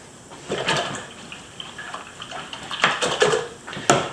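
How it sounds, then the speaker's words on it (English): A paintbrush swished and rinsed in a water container while ink-transfer drawing a coneflower pair, with close, splashy water sloshing and light clinks against the container, in short irregular bursts and no talking. "Rinse my brush"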